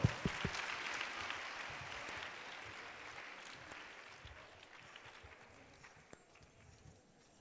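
Audience applause for young schoolchildren at a living nativity event in Spain, starting with a few sharp claps then spreading into broad clapping that gradually fades over several seconds.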